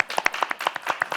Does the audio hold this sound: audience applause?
yes